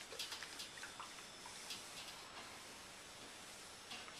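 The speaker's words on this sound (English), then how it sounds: "the setting I have on my iron is I have it on heavy steam" A clothes iron set to heavy steam vents a steady, faint hissing rush of vapor while pressing a chef coat, a continuous breathy noise with no talking.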